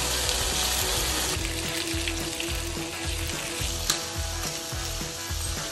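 Chicken and small onions fry in olive oil in a pan, a dense, even sizzle close up with a faint pulsing texture and a couple of small clicks, no voices.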